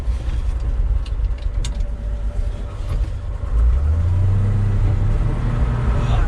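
A 1963 Chevy pickup, found in a barn, runs loud and close in first gear. Its engine rumbles steadily, then deepens and strains as it lugs under load. No one speaks.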